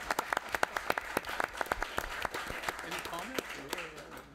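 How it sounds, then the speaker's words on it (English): Scattered, uneven clapping from a small audience at a city council meeting after a unanimous vote, with individual claps standing out sharply, thinning toward the end, and voices talking beneath. "Now you can applaud."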